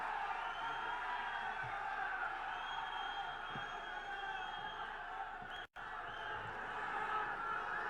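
Large outdoor crowd at a Congress election rally in Dausa, Rajasthan, roaring and cheering steadily in a dense, continuous wash of noise with scattered whoops, with a brief dropout partway through.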